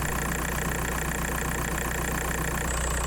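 A Skoda Fabia 1.9 PD diesel idles steadily after a radiator refit, a loud, continuous close-range drone with a low, even throb and no change in pace or level.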